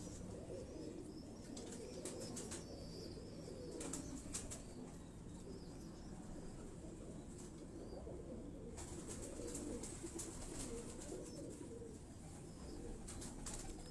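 Pigeons on a rooftop in Johar Town, Lahore, coo softly and flap their wings in bursts, faint and somewhat distant against light background noise.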